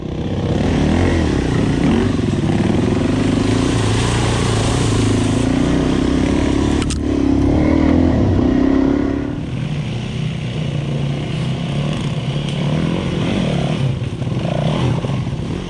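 A Suzuki DRZ400 single-cylinder dirt bike rides the Monkey Gum Fire Trail, its engine a steady, close drone with wind noise, a brief sharp knock near the middle and a dip in revs afterward.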